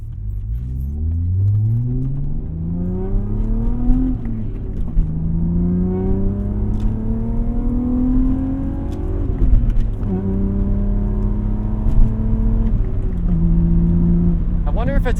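A BMW E36 328i engine revs repeatedly, climbing in pitch and dropping back, loud and close, with a raspy exhaust tone through an aftermarket Y pipe.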